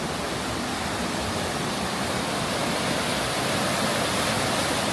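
Roar of a giant waterfall and powerful river current, a dense, steady broadband rush of water that stays loud and unbroken throughout, with no voices.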